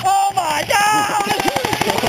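Airsoft guns firing in rapid automatic bursts during a team game, loud and close, overlapped by shouting voices throughout.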